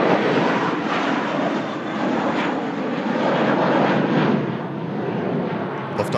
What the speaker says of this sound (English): Lufthansa Star Alliance A321